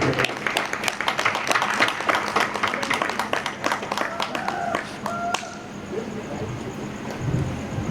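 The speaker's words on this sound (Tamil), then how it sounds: "எல்லாரும் ஆரவாரம் பற்றி கைதட்டுமாறு உங்களை அன்புடன் வேண்டிக்கிறேன்." Audience applauding at a village drama event in Arumbanur, a steady patter of many hands fading out over several seconds, with a brief tonal sound in the middle.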